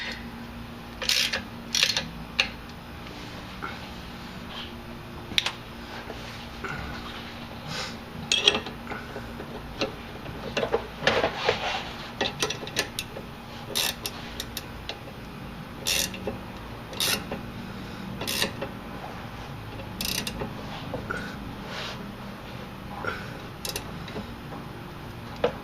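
A ratchet tightens sway bar bolts on a 1999-2004 Jeep Grand Cherokee during an Addco sway bar install, heard as bursts of sharp clicking separated by pauses over a low steady hum, close and moderately loud.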